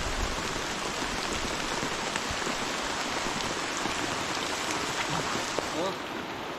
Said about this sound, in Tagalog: Unang ulan ng Abril